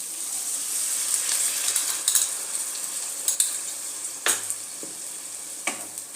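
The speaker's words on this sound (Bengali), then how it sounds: "দইটার সাথে মশলাটা আবার 2 মিনিটের জন্য কষিয়ে নেব" A spice paste cooks with yogurt in a pan for an eggplant dish, sizzling and frying steadily while a spoon stirs and scrapes against the pan in intermittent clinks and knocks.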